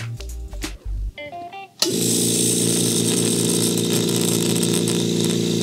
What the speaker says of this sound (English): So this is a one horsepower motor.